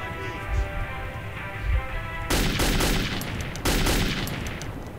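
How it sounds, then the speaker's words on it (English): Automatic rifle fire in the Metro 2033 video game: a steady tone gives way to sudden loud rapid bursts of shots in two volleys, close and sharp, with no one speaking over them. "It's an automatic rifle."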